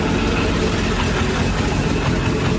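A nitromethane-fuelled drag racing car engine runs steadily just after ignition, a loud, dense, continuous low roar with a rough idling texture and no talk.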